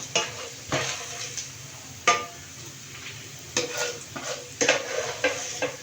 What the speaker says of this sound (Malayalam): ഇത് ഷാലോ ഫ്രൈ ചെയ്യാനായിട്ട് ഞാൻ കുറച്ച് ഒഴിച്ചു